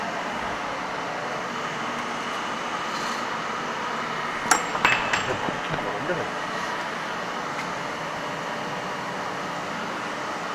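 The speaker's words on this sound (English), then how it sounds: "making hexagonal head bolt by offsetting operation" A mild steel bar, half an inch across and seven inches long, being hammered to forge a hexagonal bolt head, a brief cluster of ringing metallic strikes midway through, over constant workshop background noise.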